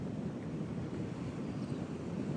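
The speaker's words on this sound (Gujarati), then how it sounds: "બહુ ને બહુ મોજા આવી રહ્યા છે, મોટા મોટા ભયંકર" Large ocean waves rolling in at sea during rough, stormy weather, a steady low roar of surf mixed with wind buffeting the microphone, continuous and fairly faint, with no voices.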